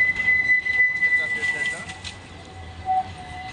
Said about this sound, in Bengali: এই ট্রাম ট্রেনগুলো দেখতে অনেক সুন্দর লাগে, পার্পেল কালার এবং আবার স্টেশনে যাচ্ছে